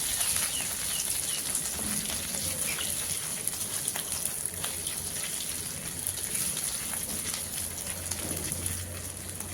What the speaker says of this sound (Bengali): এবারে দিয়ে দিলাম 1/2 চামচ আদা বাটা। আদাগুলো একটু ভালোভাবে ভেজে নিতে হবে।